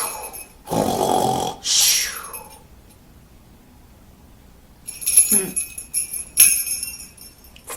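A voice imitates snoring for a sleepy jingle dinosaur in a children's story: one loud drawn-out snore and snort, a pause of near silence, then softer breathy snorts and jingly rustles.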